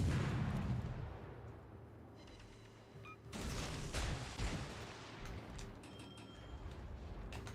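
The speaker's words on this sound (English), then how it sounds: "All stations, concentrate fire on the target." Naval ship guns firing in World of Warships Legends, with heavy booming blasts and rumbling mechanical clatter at moderate distance, several shots spread across the stretch.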